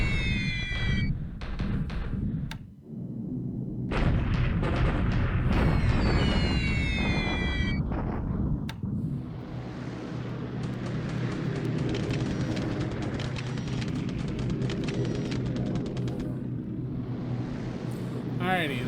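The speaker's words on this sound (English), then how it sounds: "Just pounding my damn bases." Bombardment explosions strike bases in a World War II strategy war game, heard as booming blasts and rumbling impacts at moderate loudness, with someone talking over much of it.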